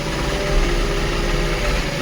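A tractor engine idles steadily at a brick kiln site, producing a continuous low rumble that is close and even throughout, with no talking.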